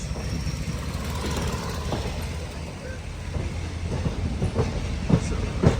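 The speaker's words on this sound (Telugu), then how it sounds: "ఈ ట్రైన్ అయితే ఇప్పుడు అవుటర్ నుంచి ప్లాట్ఫామ్ మీద పెడతానికి తీసుకెళ్తున్నారు" A Trivandrum–Mumbai CSMT Superfast Express rolls steadily along the rails from the outer signal toward the platform, with a low rumble and rhythmic clacking that grows more pronounced toward the end, with no talking.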